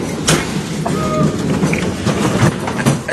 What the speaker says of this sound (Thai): อันนี้เป็นรถไฟครับ